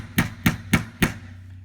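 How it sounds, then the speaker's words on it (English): A hammer taps a 4mm roll pin during a CZ Scorpion handguard install. There are four sharp metallic strikes in a steady, evenly spaced rhythm, close up and clear. "Start it with the hammer"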